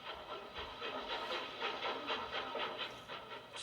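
A Bulleid Light Pacific steam locomotive in original condition runs through a station without stopping on a Southern Railway boat train to Dover, heard as a steady hissing rush with faint rhythmic beats at moderate distance.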